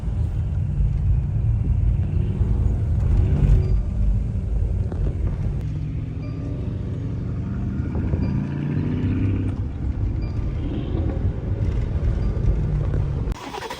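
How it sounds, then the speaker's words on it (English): A car drifting on pavement a few feet away, heard as a loud, steady roar of engine and tire rumble that lasts almost the whole stretch and then cuts off sharply near the end. "you could literally hear people like drifting a car, like a few feet away from us"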